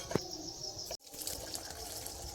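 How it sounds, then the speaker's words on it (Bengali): Water sweetened with cane sugar and sugar drops bubbles and churns in a pot, a continuous close watery rush broken by a brief gap, with no voices. "জল এখন ফুটতেছে এতে কিছু আমি বাতাসা দিয়ে দিয়েছি"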